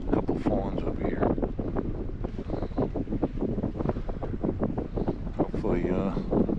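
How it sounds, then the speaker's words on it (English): Wind blows steadily around a deer hunting stand on a cold afternoon, a loud, continuous gusty rush buffeting the microphone with a faint voice underneath. "That wind's been blowing since as soon as I got up in here"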